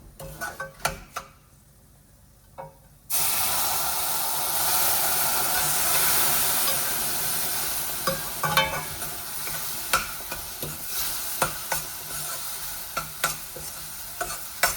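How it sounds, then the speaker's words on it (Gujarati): Milk is poured into a pan of roasted semolina with swollen raisins on a medium flame, bursting into a loud hissing sizzle after quiet clinks, then scraping stirring strokes repeat as the bubbling continues. "સારી રીતે મિક્સ કરી દઈશું. થોડું થોડું દૂધ ઉમેરવાનું છે."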